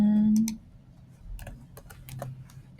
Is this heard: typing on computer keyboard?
yes